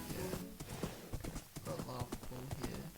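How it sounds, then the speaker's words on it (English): Horse hooves clip-clopping in Minecraft while the horse is being tamed, a quick irregular run of soft hoof clops with faint game sounds, fairly quiet. "I was taming a horse."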